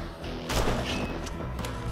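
Short, heavy gunfire thuds in the shooter game You Are Empty, a couple of close booming shots over a low rumbling background.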